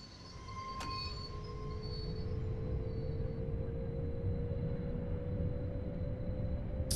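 A train pulls away in Train Sim World 2 on the Luzern–Sursee line, with a steady, loud rumble of rolling wheels and a rising whine as it gathers speed, plus a brief click early on.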